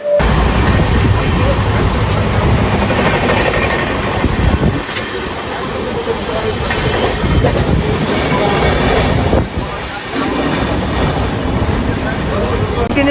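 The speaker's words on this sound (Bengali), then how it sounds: "আর ট্রেনের স্পিড দেখো আটানব্বই অলরেডি ছুঁয়ে ফেলেছে" Bardhaman-Howrah chord line super local train running at speed, a loud continuous rumble and rattle of the wagons heard from on board, with brief dips in the roar and no clear talk.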